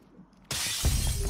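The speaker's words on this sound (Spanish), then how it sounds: "Yo escuché vidrio romperse." Glass shattering in the Call of Duty video game: a sudden loud crash about halfway through, followed by a sustained bright spray of breaking shards.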